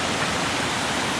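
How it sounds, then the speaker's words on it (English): Water tumbling down a series of cascades beside a mountain hiking trail, a steady, full rushing roar close by with no breaks and no voices. "there's this really nice series of cascades"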